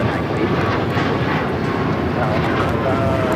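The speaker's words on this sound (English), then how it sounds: "This is American Airlines 2308 taking off to Raleigh-Durham on the MAX 8" An American Airlines Boeing 737 MAX 8 takes off from LAX, its engines giving a loud, broad, sustained roar throughout while people talk over it.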